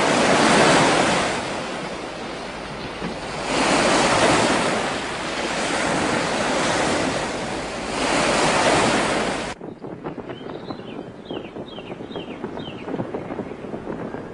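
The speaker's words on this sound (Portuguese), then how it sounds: "O vento está cada vez mais forte." Strong, gusting wind roars in loud rising and falling surges, like a storm building, then cuts off abruptly to a quieter, crackling background.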